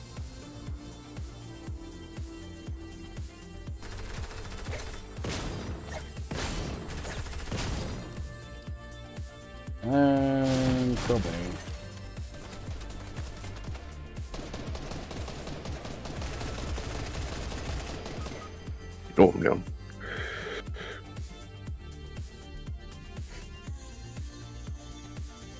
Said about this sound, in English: I heard your gunfire.